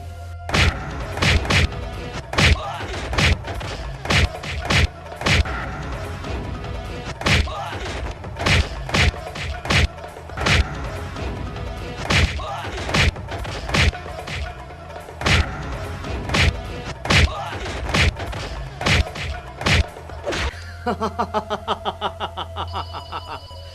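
Heavy punches and blows land in a Haryanvi film fight scene, a rapid barrage of loud, close thuds and whacks hitting in a steady rhythm throughout, with a short tonal sting near the end.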